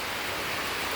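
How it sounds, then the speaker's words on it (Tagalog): Heavy rain pours down steadily on a chicken farm, a dense, unbroken rushing hiss with no voices. "hindi po tayo basta makaalis dito dahil lakas po ng ulan"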